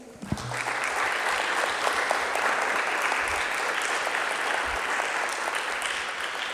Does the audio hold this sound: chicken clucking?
no